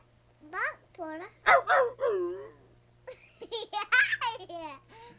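An older man imitates a dog barking with his voice, a series of short yelping woofs in two quick clusters, close and clear with a faint steady hum underneath.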